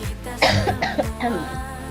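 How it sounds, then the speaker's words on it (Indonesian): A woman coughs several times in a short, rough burst, close and fairly loud, during a meeting, with no speech over it. "saya sedikit agak batuk ya"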